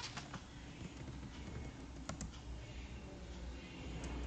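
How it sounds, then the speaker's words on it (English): Soft, scattered clicks of keys being typed on a computer keyboard, faint and irregular over a low background hiss. "I'm just typing"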